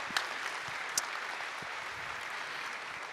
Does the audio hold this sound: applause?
yes